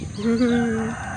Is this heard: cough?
no